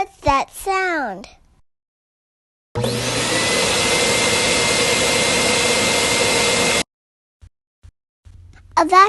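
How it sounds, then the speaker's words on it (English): A vacuum cleaner runs steadily for about four seconds, a loud, even whirring roar with a high whine, starting and stopping abruptly, between stretches of a child-like voice talking and quiet gaps. "A vacuum cleaner."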